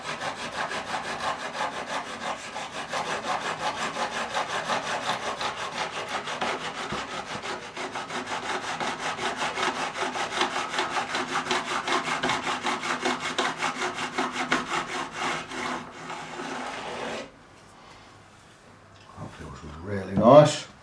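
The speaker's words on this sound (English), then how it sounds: "let the file do the work" Metal file dressing the frets on a Michael Kelly Patriot Premium guitar during a refret, rasping in quick regular back-and-forth strokes for a long stretch before stopping, followed by handling noise.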